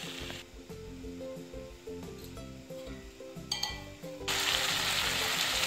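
Spring onion sabzi with chana cooking in a pan, giving a soft, steady sizzle that swells louder toward the end, with light metallic clinks of utensils over a low background hum.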